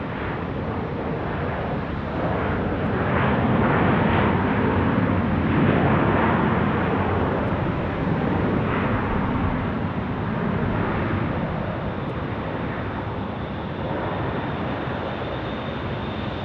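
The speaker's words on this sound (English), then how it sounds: "This is Southwest Airlines arriving from Kansas City on a MAX 8" A Southwest Airlines Boeing 737 MAX 8 arrives from Kansas City at Phoenix Sky Harbor International Airport, a loud, continuous jet roar that swells in the middle and then holds steady, with no talking.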